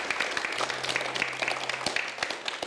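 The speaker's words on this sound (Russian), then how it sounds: "Аплодисменты нашему гостю." A studio audience applauds a guest on a talk show with brisk, dense clapping that stays fairly steady throughout.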